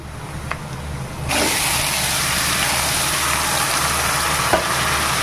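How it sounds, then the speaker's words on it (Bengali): Shing fish with onion and spices hit hot oil with a sudden loud sizzle that settles into a constant, close crackling hiss. "আমি মশলা সহ মাছগুলোকে ঢেলে দেবো"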